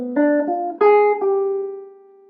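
Jazz guitar plays a short diminished seventh arpeggio line over a ii–V7–I, with four quick picked notes that resolve to a sustained G ringing out and fading, clean and close.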